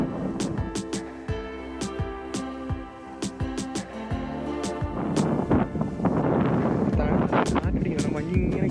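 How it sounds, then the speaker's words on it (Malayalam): Strong wind gusts across a misty hilltop at Pullikkanam near Vagamon, buffeting the microphone with rough rumbling bursts that build louder toward the end, while a person speaks over it. "നല്ലപോലെ കാറ്റടിക്കുന്നുണ്ട്"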